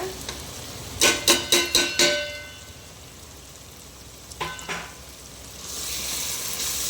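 Spice powders hitting hot oil in a pan for potato soya chunk gravy, a quick run of five or six sharp sizzling bursts, then two softer ones, ending in a steady low hiss.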